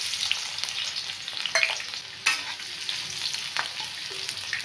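Chopped onion frying in hot oil in a kadai makes a steady, close, hissing sizzle, with a few short clicks and scrapes from stirring and one brief louder crackle midway.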